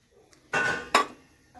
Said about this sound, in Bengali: এবার আমি কড়াটা বসিয়েছি